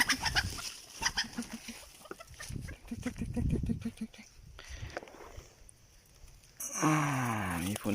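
Hens clucking close by in short bursts, with shuffling movement and a sudden loud squawk near the end.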